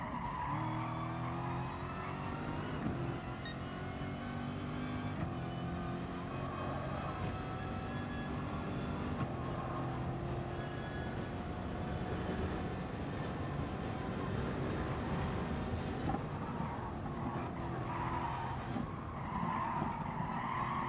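A race car in GT Sport on the Nordschleife skids with squealing tires over a steady, loud engine drone, the tire noise swelling and fading through the corners without pause.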